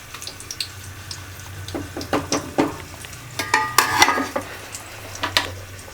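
Hotel-style plain veg salna curry simmering in a pot, with soft clinks and scraping of a spoon against the pot over a low steady bubbling hum, sporadic close utensil taps, no voices.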